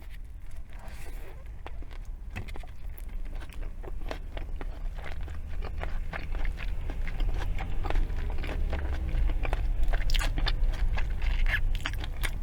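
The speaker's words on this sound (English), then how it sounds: "First bite." A mukbang eater bites into a McDonald's McRib sandwich dripping with sauce and raw onions, giving a run of close, moist crunching and chewing sounds that continue steadily throughout.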